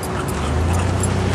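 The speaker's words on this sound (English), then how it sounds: "here's our two boot camp dogs" Two dogs at a boot camp whimper and yip nearby, a steady run of whiny dog noises carried over continuous background noise, with no clear speech.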